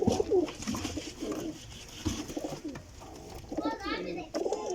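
Pigeons in a fancier's loft coo in repeated low throaty phrases, close and fairly loud, with someone talking intermittently over them.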